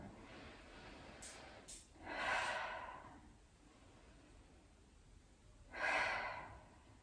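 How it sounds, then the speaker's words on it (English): Two slow, deep breaths from a yoga session, each a soft, airy inhale and exhale heard close and quiet against near silence. "we're going to take 2 full rounds of breath as we draw the shoulders up towards the ears in the inhale and down the back in the exhale"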